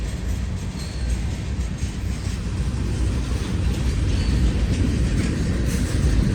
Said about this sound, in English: Look how long that train is.